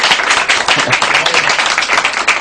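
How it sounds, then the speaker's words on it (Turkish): Loud, dense applause from a crowd, continuous rapid clapping filling the whole moment, with a few voices mixed in. "bir alkış."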